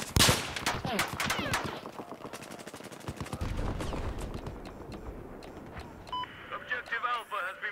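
Rapid M16A4 rifle bursts in Battlefield 4, a Golmud Rush match, crackle through a busy mix of distant gunfire and game effects, with short sharp shot clusters early on and softer scattered reports later.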